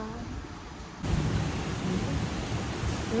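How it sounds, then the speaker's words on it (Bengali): Heavy rain on a monsoon morning in Bengal, a steady dense hiss that swells suddenly after the first second and then pours on evenly and loudly, with no voices. "মুসলদারে বৃষ্টি পড়ছে"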